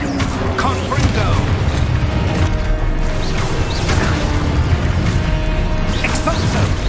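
Confringo blasting spell explosions in Hogwarts Legacy during hard-mode combat, several booming impacts and crashes with whooshing bursts, layered over continuous loud battle noise.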